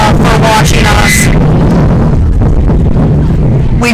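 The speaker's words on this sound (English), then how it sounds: "We just had quite the gust of wind" A strong wind gust buffets the microphone at an outdoor Christmas parade, a loud sustained low rumble that swamps the scene for nearly four seconds, with brief bright bursts near the start.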